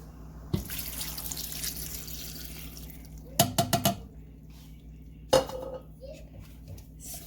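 Water runs steadily from a tap into a cooking pot holding vegetables for a rice dish, a continuous close wash broken by a few sharp clanks of metal cookware.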